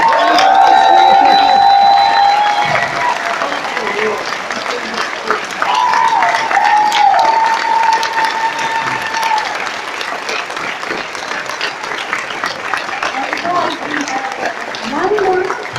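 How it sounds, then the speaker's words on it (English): Audience at a convention creators' panel breaks into loud, sustained applause with cheering and scattered whoops, the dense clapping continuing strongly and slowly easing over about sixteen seconds. "Give him a applause."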